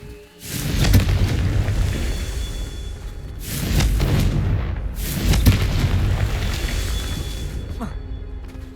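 Confringo fire spells exploding in the Hogwarts Legacy video game: several loud, broad booming blasts a few seconds apart over a continuous rumbling backdrop, with a voice now and then.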